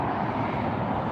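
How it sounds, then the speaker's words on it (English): Boeing 767 airliner at LAX, a loud steady broadband jet engine roar close by, with no pause. "Oh, that's a 767."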